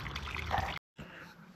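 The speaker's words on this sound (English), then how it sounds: "I just hear water." Water runs steadily beside a dark roadside turnout at night, a soft continuous wash that stops abruptly for a moment before resuming just as quietly.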